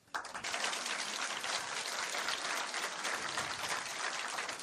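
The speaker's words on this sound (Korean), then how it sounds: "지금 누구를 향해서 박수를 보내는 겁니까?" Steady audience applause at a book concert, a dense, even wash of many hands clapping continuously at moderate volume without voices.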